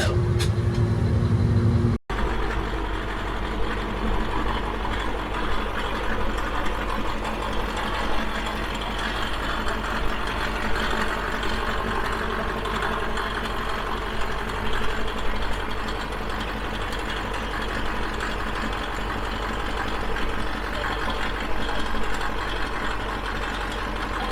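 A large tractor's diesel engine idles at a vintage tractor show, a steady, loud, continuous rumble that runs unchanged for the whole stretch, with no talking over it.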